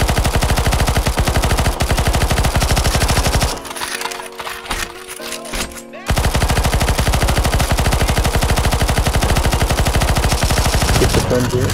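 Sustained rapid automatic gunfire in a CS:GO zombie escape match, loud and continuous, breaking off briefly into scattered shots before the dense barrage resumes.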